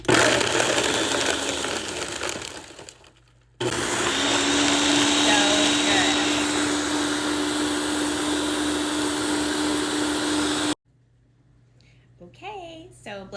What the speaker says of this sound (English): This Ninja blender is the bomb, and it has this like smoothie.